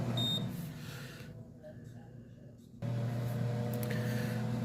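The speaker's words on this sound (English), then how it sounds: "I have to use the microwave" Steady low electrical hum of a running microwave oven, close by, briefly dropping away before returning at full strength.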